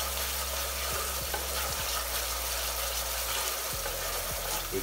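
Tomato sauce seasoned with salt, red chili powder and chili flakes sizzles in a pot while a spoon stirs it, giving soft repeated scraping strokes over a constant frying hiss.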